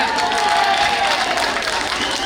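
Steady crowd applause and cheering at a political rally, a dense wash of clapping filling the space throughout.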